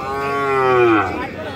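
A Deshal breed cow gives one long, close, resonant moo that rises and then fades over about a second, with no talk around it.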